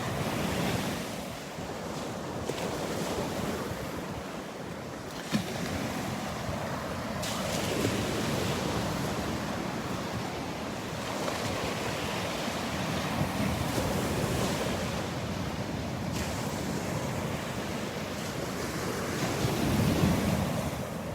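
Ocean waves breaking on the outer edge of a sandbar at Delnor-Wiggins beach, a continuous distant surf roar swelling and easing over time, mixed with wind buffeting the microphone, no voices.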